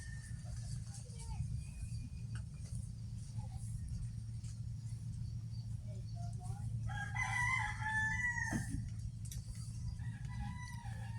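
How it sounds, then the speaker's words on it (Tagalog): A rooster crows in the morning near the sea, a single fairly distant call rising over a low, constant rumble of wind or traffic. "may manok mga idol. Ito raw kasi umaga na"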